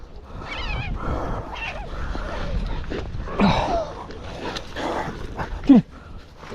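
Dogs at a vineyard yelp and whimper in an excited, scattered way across a faint outdoor background, with one sharper rising cry near the end.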